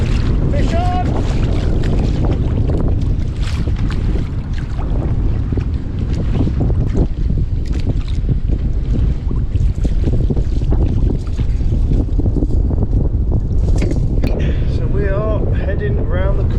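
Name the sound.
wind on the water while kayak fishing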